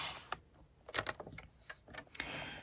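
A paper trimmer slices through cardstock in a few quiet clicks and short scraping strokes, close by and otherwise silent.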